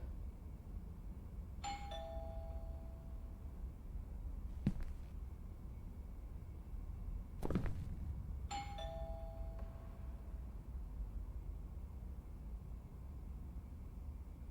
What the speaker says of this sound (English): I should just ring the doorbell, see if he answers.